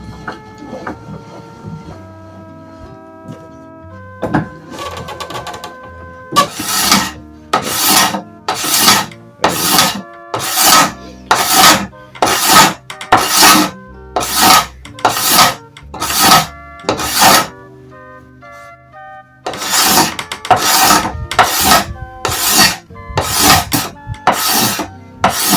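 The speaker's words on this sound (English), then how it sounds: "So the first step would be to clean up the surface here. And I'll do that using a hard scraper." A hard scraper works over the wooden surface of a continental frame saw, giving a rapid series of loud, rasping strokes in steady rhythm, close up, with a short pause before a final burst; no talking.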